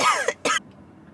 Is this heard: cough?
yes